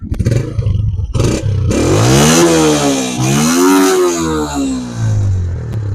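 Honda CG 125 2024 new-model motorcycle started by self-start button, its engine idling and rising in a steady revving hum with harmonic pitch sweeps, close and loud throughout.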